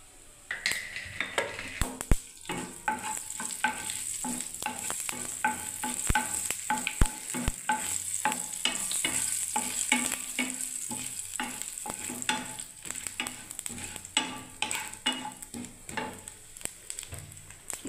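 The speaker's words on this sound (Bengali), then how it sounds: "এবারে দেখুন এটা জিরে আর শুকনো লঙ্কা আমি দিয়ে দিচ্ছি বন্ধুরা।" Cumin seeds and dried red chillies sizzle steadily in hot oil for a kundri, potato and onion dish. Clicks and scrapes of a stirring utensil on the pan run under the frying.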